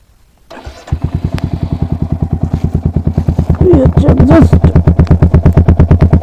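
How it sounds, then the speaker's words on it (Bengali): A Royal Enfield Hunter 350 motorcycle fitted with an aftermarket exhaust starts close by after a brief crank, then settles into a loud, steady thumping idle, with a short throttle blip midway. "স্টার্ট দিয়ে শুরু করা যাক যদিও এক্সস্ট আমি চেঞ্জ করেছি"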